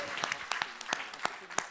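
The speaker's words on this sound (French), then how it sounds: "on peut les applaudir très fort parce que c'est un beau jeu" Audience at a federal congress plenary session clapping after a game, a brief burst of scattered applause with sharp individual claps at moderate level.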